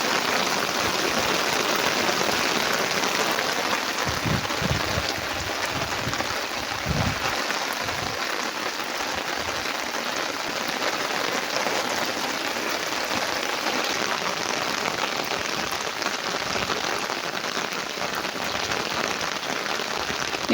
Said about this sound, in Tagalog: Lumakas na yung ulan.